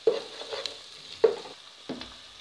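Minced meat goes into a pot with onion, garlic and ginger, giving a soft frying sizzle with three distinct stirring scrapes spaced about a second apart, close and fairly quiet.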